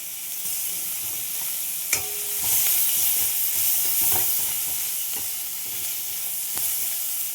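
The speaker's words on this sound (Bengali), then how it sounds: "ওই তেলের মধ্যে আমি কালো জিরে দিয়ে দিলাম, একটা পেঁয়াজ দিয়ে দিলাম" Onion and black cumin frying in hot oil for a Bengali bhola fish dish, a steady close sizzle and hiss with occasional sharp pops and clicks as the pan is stirred.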